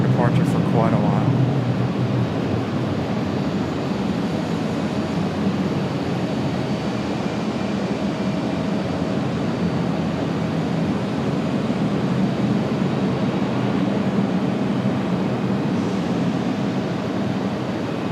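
American Airlines CRJ regional jet departing at Raleigh-Durham airport, a steady broad roar that holds at a constant level throughout, with wind-like noise mixed in.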